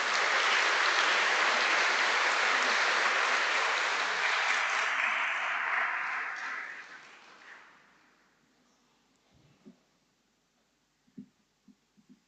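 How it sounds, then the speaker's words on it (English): Audience applause for Isa at the Rochdale Diversity Awards in Rochdale Town Hall: a loud, full crowd clapping for several seconds that thins and fades to near silence, followed by a few faint knocks and rustles. "So can we have a round of applause for Isa,"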